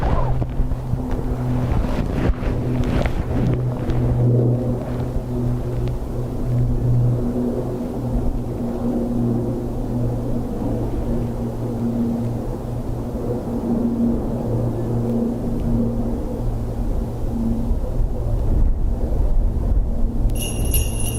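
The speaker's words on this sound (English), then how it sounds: "There's that calming of the wind we talked about." Wind blows steadily at Dublin Airport, a continuous broad rush with microphone buffeting over a low mechanical drone that holds throughout, easing slightly partway through, with no voices.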